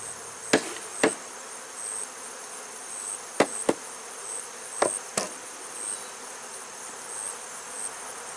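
Honey bees buzz in a steady, dense hum at an open hive during frame work, with a few sharp clicks and knocks of hive handling cutting through.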